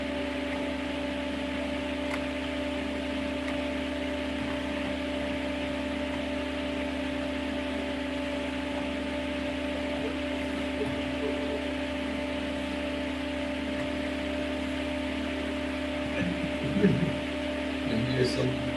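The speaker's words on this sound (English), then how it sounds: "he sampled an image and then used the wavetable to play back a sound" A sound made by sampling an image's pixels as a wavetable plays as a steady, buzzing drone of layered fixed tones under a noisy hiss, with a brief flutter of soft clicks near the end.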